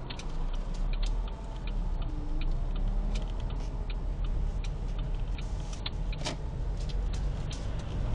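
A car pulls away during a driving lesson, its engine a steady close drone inside the cabin with faint repeated ticking like an indicator over the top.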